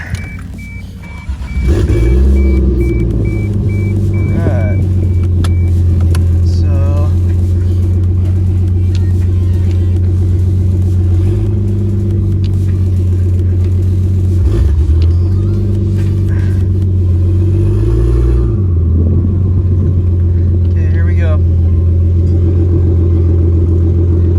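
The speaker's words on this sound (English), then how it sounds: "So we're gonna do a quick little brake test, little e-brake test." A Toyota A70 Supra Turbo idles steadily up close during an e-brake test, its low engine rumble continuous and loud, with a brief rev at the start and no one talking.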